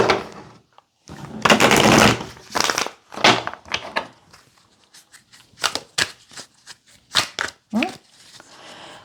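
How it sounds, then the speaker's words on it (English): Tarot cards being shuffled by hand come as bursts of papery riffling and rustling close up, in irregular clusters with short pauses. "Let me give it a quick shuffle."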